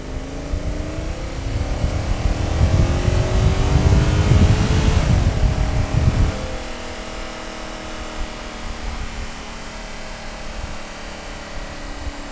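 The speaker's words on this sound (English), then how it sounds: "if you take this truck all the way up to redline, you are moving" A Porsche engine revs hard toward redline under acceleration, its rising harmonic howl loud and close for about six seconds before a shift drops it to a steadier, quieter drone. No one speaks.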